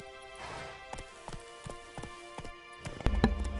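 Hooves of Roach, Geralt's horse in The Witcher 3, clop in a steady galloping rhythm of distinct thuds, moderately close, with a louder burst of ambient noise near the end.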